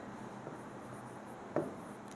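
Faint scratching of a pen on paper while writing out a math solution, a soft steady rub with one brief sharper stroke, heard close against a low background hiss.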